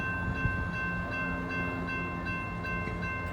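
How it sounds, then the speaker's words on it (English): A southbound CSX local freight train passes on the adjacent track, close by, with a steady tonal horn-like drone held over low rumbling rail noise throughout. "Here comes the CSX local on track 2, it's track right next to me."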